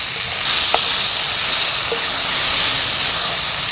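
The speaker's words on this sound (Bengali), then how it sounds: "তো আমার এখানে আলু আর মাছটা খুব ভালোভাবে কষিয়ে নেওয়া হয়ে গেছে।" Fish and potatoes frying in a pan with oil, a steady loud sizzling hiss filling the whole stretch with no talk over it.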